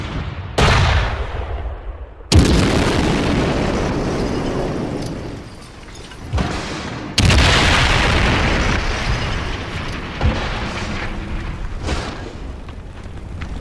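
German 88 mm anti-tank cannon firing, several loud booming blasts at irregular intervals, each a sharp report followed by a long rumbling decay, with heavy battle noise in between.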